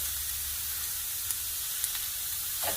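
Cabbage and carrot cook in a sauté pan with a soft, steady hiss and faint sizzle, a few small pops and ticks breaking through near the end, no voices.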